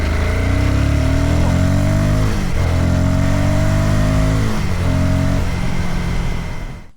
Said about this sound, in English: it's got a power band right when you rev it up